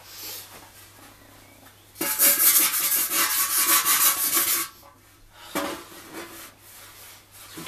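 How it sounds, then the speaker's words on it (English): Rust being stripped off metal with a rough abrasive rasping, a loud sustained burst of about two and a half seconds, then a shorter scraping pass, set between quieter stretches of handling. "I'm going to be stripping all this off, all this rust off."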